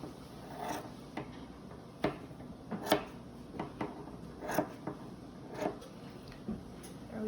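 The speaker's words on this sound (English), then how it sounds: "And then if I go ahead and trim the other side," Scissors trimming the fringe of a macrame cord feather, producing a series of soft, short snips and rustles spaced irregularly, close and fairly quiet with no talking.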